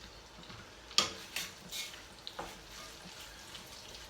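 Butternut squash ravioli cook in brown butter in a pan, giving a soft, steady sizzle with a few faint clicks and clinks, quiet and without talk.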